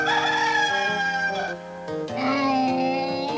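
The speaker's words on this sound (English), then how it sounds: "That was Ricky Rooster." A rooster crows loudly with a long, wavering cock-a-doodle-doo, briefly dipping before a strong second crow rings out close by.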